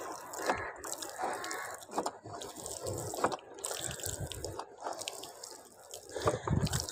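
Water poured from a container onto a bael plant outdoors, giving a steady splashing trickle with scattered drips that runs continuously at close range.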